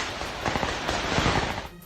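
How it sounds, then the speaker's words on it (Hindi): Gunfire crackles in Kyiv as a kamikaze drone flies overhead, a quick burst of sharp overlapping pops and bangs under a loud hissing wash of noise, lasting under two seconds. "कीव के आसमान पर तो कामिकाजे ड्रोन मंडराता भी नजर आया और पीछे से सुनाई दी गोलियों की आवाजें"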